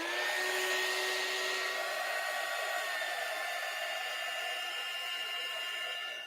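A heat gun blowing hot air to dry paint on an MDF board, giving a loud, even whooshing roar with a steady whine that holds for the whole stretch before easing slightly at the end.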